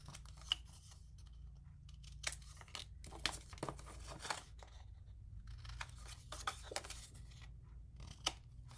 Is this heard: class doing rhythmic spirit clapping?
no